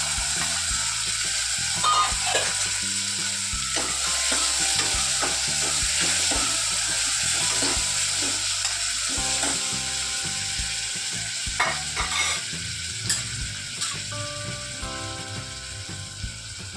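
Cowpeas and onion sizzle in a hot pan on a gas stove, a steady hiss of frying with a ladle scraping and stirring intermittently through the mix.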